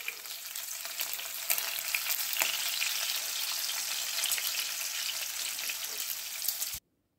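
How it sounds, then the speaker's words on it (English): Bacon frying in a pan, a bright continuous sizzle and spatter with a few sharper clicks as strips are turned, fairly close, ending abruptly, no talking. "Whoa, flipping bacon."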